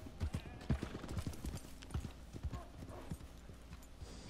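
Horse hooves clip-clop in an uneven trotting rhythm in the video game Red Dead Redemption 2, fairly quiet and close, with scattered faint background noise.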